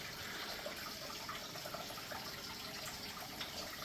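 A creek runs hard over organic debris beside a wall, giving a steady, faint rushing and gurgling wash of water that continues unbroken throughout, with no voices.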